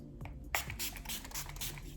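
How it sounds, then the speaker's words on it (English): Revolution glowy setting spray hisses from a pump bottle onto a face in several short bursts, close and soft, amid light handling noises. "I'm gonna take my Revolution glowy spray. I'm just gonna spray my face"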